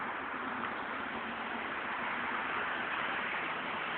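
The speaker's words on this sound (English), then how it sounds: "What you hear behind me is the roar of traffic on the main busy highway" Steady, dense roar of traffic on a busy main highway, heard from across a street in a field, a continuous broadband wash with no breaks or individual passes standing out.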